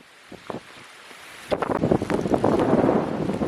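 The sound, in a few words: strong wind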